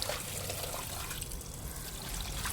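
Drinking water pours and trickles steadily into a container at an outdoor tap, a soft continuous splashing stream heard close and fairly quiet with no talking.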